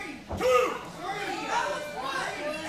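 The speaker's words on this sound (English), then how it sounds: "That was the crowd arguing with the ref yet again tonight" A wrestling crowd at a Rock & Roll Express tag match shouts and chatters in protest at the referee, a steady mass of overlapping voices with a louder surge early on.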